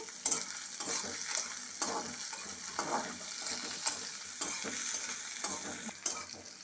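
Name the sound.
stir-frying garlic, onion and green chillies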